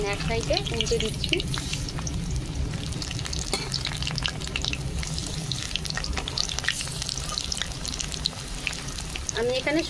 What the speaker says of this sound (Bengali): আমি এখানে সরষের তেলে ভাজছি